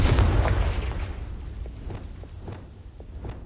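A Confringo blasting spell explodes in Hogwarts Legacy, a loud booming blast at the start that rumbles and fades, followed by a few faint pops.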